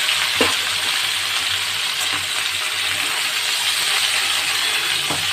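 Cut vegetables sizzle in hot oil over a spice tempering. A steady, loud, close frying hiss runs throughout, with a few faint clinks of stirring and no voices.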